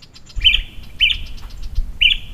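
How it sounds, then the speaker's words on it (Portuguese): A great kiskadee and other birds give alarm calls: three sharp, bright chirps in quick succession over a low background rumble. "Garrinchão de bico grande e outros pássaros alarmando ali"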